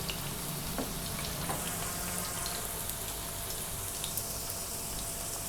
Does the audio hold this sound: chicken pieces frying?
yes